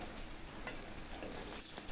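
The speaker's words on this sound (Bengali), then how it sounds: "মাছগুলো ভাজা শেষ," Gulsha fish fry in hot oil, a dense continuous crackling sizzle that stays fairly quiet and even throughout, with no voices.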